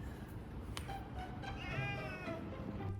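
A house cat meows faintly in a quiet indoor spot during evening tooth brushing, giving a couple of soft drawn-out meows over steady low background hiss.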